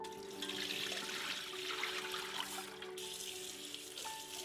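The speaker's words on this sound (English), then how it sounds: "now I am going to rinse it one more time before I cook it" Brown rice soaked overnight being rinsed under running tap water in a kitchen sink, a continuous rushing splash that stays close and steady throughout, with no talking.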